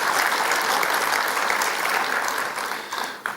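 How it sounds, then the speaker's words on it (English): Audience applause at an event marking 60 years of PKNS, a Selangor real estate developer: dense, steady clapping from a large crowd, loud and sustained, tapering slightly near the end. "all of you here today deserve a round of applause"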